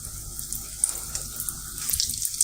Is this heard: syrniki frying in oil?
yes